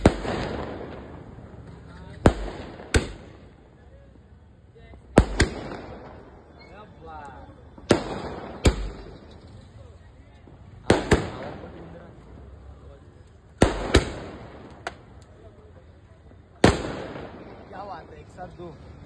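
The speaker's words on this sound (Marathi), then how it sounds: "ही मूर्ती मंदिर परिसरात येताच फटाक्यांची आतिषबाजी करण्यात आली होती" Firecrackers burst in a temple courtyard during a Hanuman festival. About nine sharp, loud bangs come at irregular intervals over continuous crowd noise and voices.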